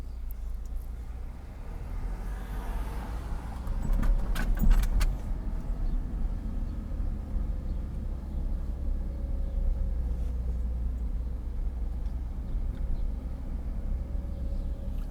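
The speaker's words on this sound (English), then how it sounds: "I'm driving super slow." A car rolls slowly through city streets in Scranton, Pennsylvania, heard from inside as a steady low road and engine rumble, with a short jangle of keys or rattling around the fourth second.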